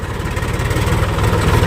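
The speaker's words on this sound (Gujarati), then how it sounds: "તો ટ્રેક્ટર આમ હાલે." A farm tractor's diesel engine runs close by, a loud, steady low throbbing chug that holds an even rhythm throughout.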